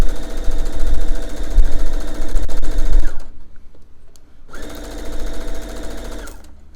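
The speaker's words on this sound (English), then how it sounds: "I'm just going to get started, do a few stitches of reverse" A sewing machine stitches fabric for a beginner seam, running loud and close in a rapid, steady mechanical whir, pausing for about a second and a half, then starting up again.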